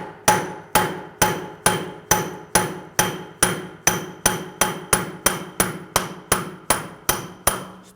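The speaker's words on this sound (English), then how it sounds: "Just take a punch, just give it a tap." A hammer strikes a punch in a steady series of about eighteen sharp metallic taps, each ringing briefly, while separating the rear CV axle from the hub on a 2007–2013 BMW 328i 3.0L L6.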